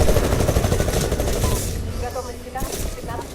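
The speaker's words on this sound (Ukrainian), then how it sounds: "Зверху стріляють!" Rapid bursts of Titanfall gunfire crackle over a dense, noisy backdrop, with someone shouting excitedly in Ukrainian throughout.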